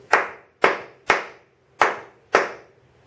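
Hands clap five times in a slow, even counting rhythm, each sharp clap close and crisp with brief pauses between, no talking.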